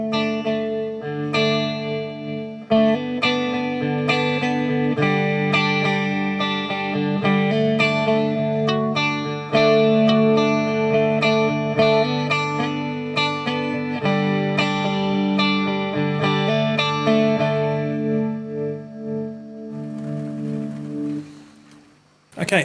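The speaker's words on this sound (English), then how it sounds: "I've got a circular echo that just gives a nice full sound" Electric guitar chords drenched in a swirling echo effect, sustained and full, ringing on for over twenty seconds before fading out.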